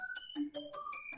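Faint, warbling synthetic tones from the FFT effect in Reason 11's Quartet Chorus Ensemble, jumping between pitches in short steps, with a processed, glassy electronic quality.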